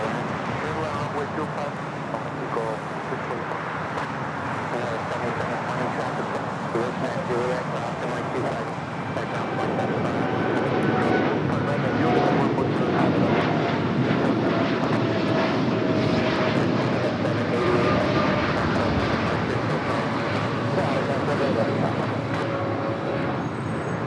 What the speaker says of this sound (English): that Air Canada Dreamliner rocking and rolling down at 25 at right.